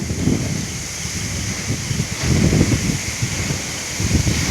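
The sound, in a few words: strong stormy wind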